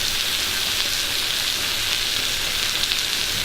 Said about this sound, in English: Get your little bit of potato, place it into your frying pan